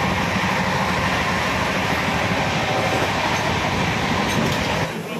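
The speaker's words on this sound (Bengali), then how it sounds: "ওয়েল ট্রেন এখন আসানসোল স্টেশনে পৌঁছালো" The 12301 Howrah–New Delhi Rajdhani Express runs on rails near Asansol, giving a loud, steady rolling rumble with a broad hiss throughout. It is heard close up with no voices, and the sound eases slightly at the very end.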